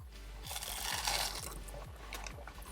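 Crisp crunching bites into a Taco Bell black bean quesalupa's crunchy cheese-crusted shell, with a steady low rhythmic thumping underneath and no talking.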